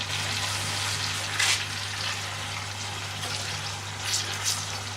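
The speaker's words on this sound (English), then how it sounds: "it's time to put in your prawns, your shrimp. And that just goes in like that." Prawns sizzling in garlic chilli butter for gambas al pil pil, a continuous close frying hiss with a low steady hum beneath and a couple of brief louder bursts.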